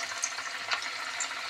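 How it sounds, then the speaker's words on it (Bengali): Vegetable pakoras fry in oil over a low gas flame, giving a soft, steady crackling sizzle with small bright pops, close and fairly quiet, no voices. "একদম গ্যাসের ফ্লেম সিম করে করে ভাজছি কিন্তু আমি"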